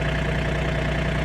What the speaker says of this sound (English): So we got the tractor back here now